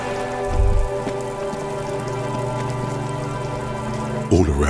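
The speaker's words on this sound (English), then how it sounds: "All around you, rain falls on the great city of Revachol. Rain drips from the eaves and floods the gutters" Rain pours over the city of Revachol in the video game Disco Elysium, a steady close hiss of falling drops with a low hum beneath and a brief deep thump near the start and end.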